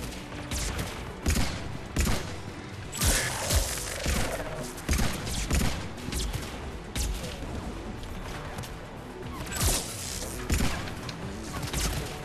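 Video game gunfire from Mass Effect 3, a busy firefight with repeated bursts of shots, thumps and impacts spread across the clip, loud and dense with little pause.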